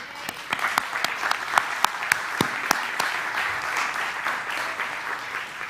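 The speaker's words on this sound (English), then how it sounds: "deserves this round of applause and then some" A round of applause for Johnny Kirko rises from a congregation, with distinct sharp claps up front over a dense wash of clapping that gradually softens toward the end.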